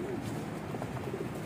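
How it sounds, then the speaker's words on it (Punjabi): A flock of about 25 to 30 recently caught pigeons coos from a rooftop loft, soft rolling throaty calls repeating close by, with no speech. "ਕਬੂਤਰ ਭਾਜੀ ਤਕਰੀਬਨ 25 ਤੋਂ 30 ਹੋਣੇ ਨੇ, ਇਹ ਤਕਰੀਬਨ ਹਫ਼ਤੇ ਦੇ ਅੰਦਰ ਹੀ ਪਕੜੇ ਹੋਏ ਨੇ ਸਾਰੇ"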